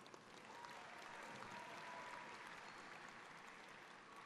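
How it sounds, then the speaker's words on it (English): Steady applause from a large high school graduation crowd, dense clapping that sounds distant and holds level throughout. "Give yourselves a round of applause."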